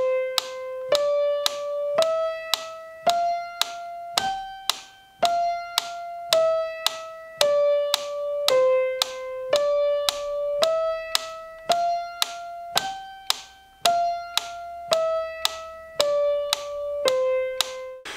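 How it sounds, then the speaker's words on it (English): A metronome ticks steady quarter-note beats, each crisp click landing right on a piano note as an exercise from Czerny Opus 299 No. 1 is played in strict time, about twenty even beats at a moderate tempo. "Every quarter note is to be played in alignment with the audible beats or ticks of the metronome"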